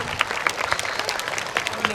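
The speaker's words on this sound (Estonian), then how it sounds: "Teeme Tommile aplausi" Children and adults at a kindergarten music party clap together, a lively burst of applause with distinct, uneven hand claps popping out over a steady background of crowd noise.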